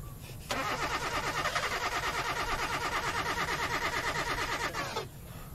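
A car engine in the horror game They Are Here cranks steadily for about four and a half seconds without catching, a loud rapid rhythmic churning that cuts off abruptly.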